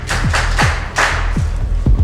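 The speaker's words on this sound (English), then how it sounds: "Applaud them, please." A school quiz audience applauds a team, producing close, uneven hand claps with several distinct louder slaps scattered through the noise.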